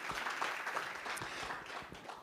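Faint, distant applause from a summit audience, a soft continuous patter of many hands with a few sharper claps standing out.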